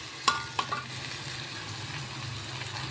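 Sardine sambal paste frying in oil in a wok, a soft continuous sizzle with a few sharp clinks of a stirring utensil near the start.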